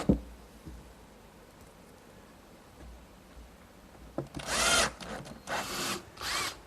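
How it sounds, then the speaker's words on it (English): A power drill drives screws into the wooden fronts of a workshop hutch, giving three short whirring bursts after a quiet stretch of room noise. "Now I'll secure these with some screws from the inside and then put the handles on."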